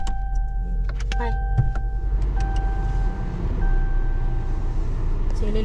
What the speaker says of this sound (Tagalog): So, ililipat niya po yung sasakyan.